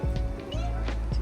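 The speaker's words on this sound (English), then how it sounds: "It's a boy cat." A male cat outside a restaurant in Crete, Greece, gives a few short meows close by, with a low background hum beneath them.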